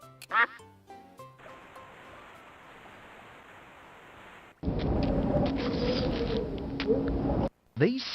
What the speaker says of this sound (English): Talking to ducks? Desperate for company?